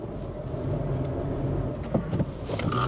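Filthy, cheap Honda Jazz hatchback engaging reverse and moving off, with a steady low engine and road rumble throughout and a few brief knocks and clunks near the end.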